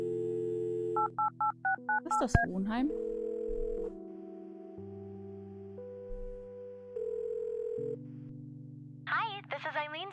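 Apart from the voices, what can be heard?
telephone dialing and dial tone in Kathy Rain video game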